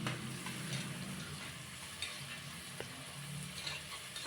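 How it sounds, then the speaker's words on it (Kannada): Onions and mint leaves frying in oil for a country-style egg biryani, a steady close sizzle with occasional stirring scrapes, no voices. "ಇದನ್ನು ನೀಟಾಗಿ ಫ್ರೈ ಮಾಡಿಕೊಂಡು ಒಂದು ಸ್ವಲ್ಪ ಹೊತ್ತು ಎಣ್ಣೆಯಲ್ಲಿ ಬಾಯ್ಲ್ ಆಗೋದಕ್ಕೆ ಬಿಡೋಣ"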